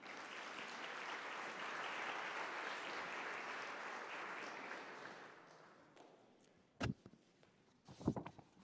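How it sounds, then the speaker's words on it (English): Audience applause welcoming a keynote speaker at an ILO global conference: dense, steady clapping for about five seconds that fades out, followed by a few sharp knocks and handling noises. "Let's give him a round of applause."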